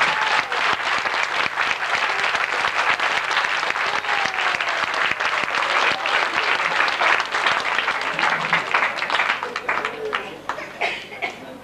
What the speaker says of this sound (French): Donc on peut maintenant applaudir Catherine